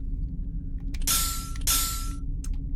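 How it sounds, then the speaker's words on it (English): Two bright, ringing clinks follow each other about half a second apart in the Myst puzzle game, each a sustained metallic bell-like tone over a low background hum, with a few faint ticks after. "it's the clink sound, the bell sound, and the puff of smoke"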